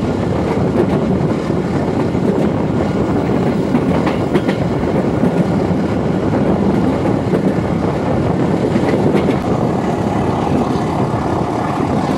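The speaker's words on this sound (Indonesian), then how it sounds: "Menggunakan lokomotif CC201-8905 depo induk Madiun kalau nggak salah." A passenger train hauled by a CC201 diesel locomotive rolls past loudly and continuously, with a dense rumble, rhythmic clickety-clack of wheels on rail joints and steady broadband noise.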